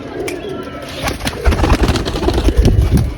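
Pigeons cooing close by in soft, throaty repeated calls, several birds overlapping in a low rolling rhythm, with some faint background rustle.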